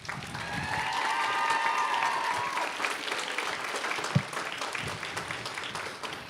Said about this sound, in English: join me in giving our teachers, staff, and our support community at San Juan College a big round of applause